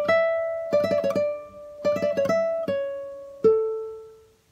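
Alternate version of the Balada Campestre melody on solo guitar, with short bursts of rapid plucked notes, sustained ringing tones between them and a final held note, close and unaccompanied.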